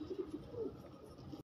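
A young pigeon gives soft, low coos, quiet and close, in a short continuous run that ends abruptly.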